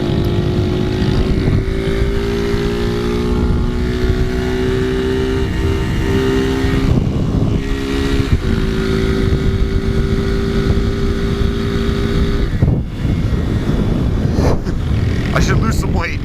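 A 250cc air-cooled single-cylinder motorcycle held at full throttle, its loud steady engine drone carrying through buffeting wind noise for the whole stretch, with a brief dip and surge near the end.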